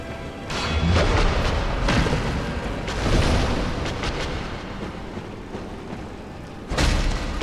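Deep booming blasts from a lava-spewing boss in the Dark Souls video game, heavy rumbling explosions rolling in several loud waves with thuds, a final burst near the end, no talking.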